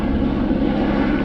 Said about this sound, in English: looks like a Border Patrol helicopter circling us